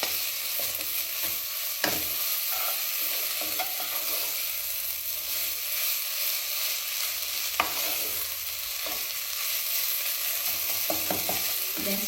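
Fish bun filling being stirred in a hot pan after salt is added, with a steady sizzle throughout and a few sharp scraping knocks of the spoon against the pan, with no talking.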